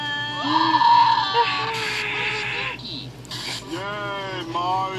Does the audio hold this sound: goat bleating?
yes